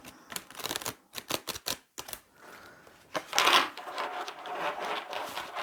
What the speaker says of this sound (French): Je vais tirer 9 cartes.